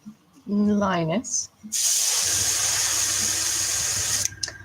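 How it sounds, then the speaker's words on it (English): An airbrush sprays paint onto a fakidermy lioness, a steady close hiss lasting a few seconds, preceded by a brief voice and a short rising tone, then cut off at the end. "So I'm just airbrushing all the colour onto the lioness."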